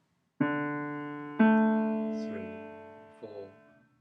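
Piano playing the left-hand part of an Initial Grade piece: three or four slow, separate notes, some held under the next, ringing and decaying softly, with no voice.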